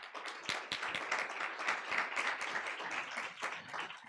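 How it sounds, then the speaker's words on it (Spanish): A modest audience at an academic presentation claps for a woman doctor being introduced, with distinct individual claps audible in a loose, uneven patter that continues at steady level. "Un fuerte aplauso para la doctora, por favor."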